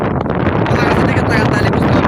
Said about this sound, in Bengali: প্রচুর বাতাস মানে বৃষ্টি হওয়ার পূর্বাভাস একটু পরে বৃষ্টি হতে পারে